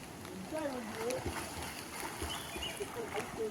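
Water splashes outdoors as something drops into a river, with voices talking and calling over steady flowing-water noise.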